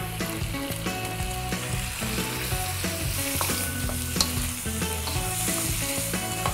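Green beans with melon, honey and chili roast in a hot pan, giving a loud, continuous sizzle and crackle with scattered stirring clatter throughout.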